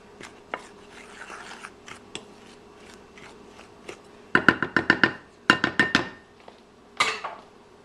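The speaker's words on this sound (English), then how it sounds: "Now we're going to mix this all together until it's really incorporated." Ingredients for a peach blackberry cobbler with packed brown sugar being mixed, a utensil clinking and scraping against a bowl in quick clustered taps, close and sharp with quiet gaps between.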